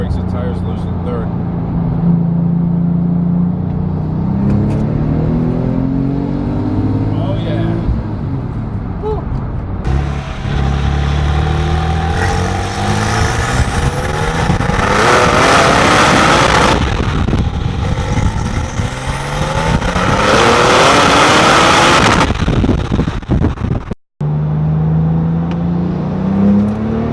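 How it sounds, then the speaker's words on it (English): A Porsche 997 Turbo accelerates hard in third gear, its engine note climbing in loud repeated surges with strong turbo whoosh, heard from inside the car with a person talking over it. "let's give it a little boost in third gear. See if it breaks the tires loose in third."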